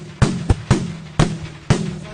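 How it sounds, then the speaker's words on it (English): Daytime fireworks go off outdoors in five sharp, loud bangs spaced irregularly over about two seconds, each followed by a short rumbling tail. "What are your thoughts on these daytime fireworks?"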